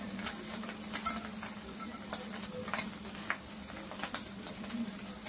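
Chopped garlic sizzles in hot oil for a tadka, a steady close crackle with soft stirring and light clinks of a utensil against the pan.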